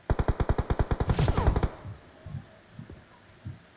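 An M416 assault rifle in a video game fires a rapid, evenly spaced burst of about fifteen sharp, loud shots, followed by a few fainter, scattered shots and quieter background noise.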